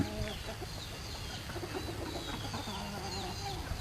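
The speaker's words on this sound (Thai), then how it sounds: "อันนี้ก็คือไก่พื้นบ้านที่นำมาเลี้ยงเอาไว้" Native backyard chickens raised on a school farm cluck and chatter in repeated short calls, moderately near, over a low steady background.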